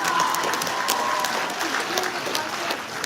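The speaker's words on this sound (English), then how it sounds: "Give those guys a round of applause." An audience at a millionaire meetup gives a round of applause for panel speakers. The clapping is steady and dense from start to finish, with faint crowd murmur underneath.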